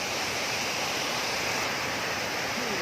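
Karmon waterfall in North Biak, Papua, roars as a steady, loud wash of falling water, continuous broadband rushing with no pauses.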